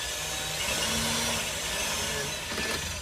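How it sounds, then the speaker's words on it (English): A slow drill bores a hole while a Eurosport rear brace is being fitted, giving a steady, close grinding whir with rough scraping texture that runs throughout, and no talking. "Now I'm going to start drilling."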